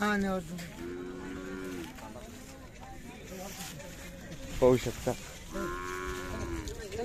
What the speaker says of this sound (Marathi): अशा प्रकारचा मोठा बैल आहे